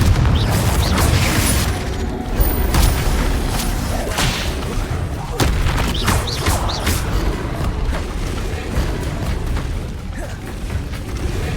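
Spell combat in the video game Hogwarts Legacy: repeated bursts, booms and crackling magical impacts tumble over one another in a dense, loud, continuous barrage.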